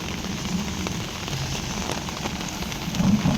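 Heavy rain falling steadily at an outdoor work site during a backhoe recovery job, a dense even hiss of drops on surfaces with a few louder spatters, with no talking.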